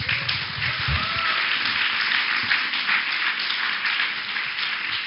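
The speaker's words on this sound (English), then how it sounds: "A big round of applause" Dense, continuous audience applause fills a hall at a women's summit, an even wash of many hands clapping with no voices over it.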